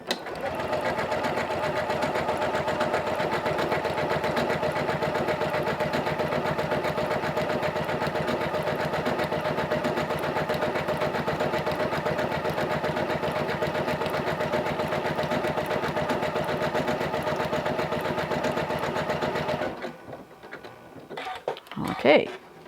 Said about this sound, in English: I'm just going to stitch this out with the default. It's going to lock at the beginning because my locking stitch is on.